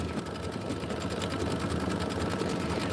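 A sewing machine runs steadily, stitching a decorative flower-like stitch, with a continuous close whirring hum and rapid needle chatter and no voices.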